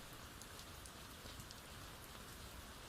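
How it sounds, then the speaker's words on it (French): Rain patters steadily against windows at night, a soft, even, dense hiss with scattered droplet ticks, faint and unbroken with no voices. "bercée par la mélodie régulière de la pluie contre les fenêtres"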